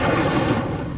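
An Incendio fire spell is cast in Hogwarts Legacy, a dense, roaring whoosh of flame that stays loud and steady for about a second with no talking.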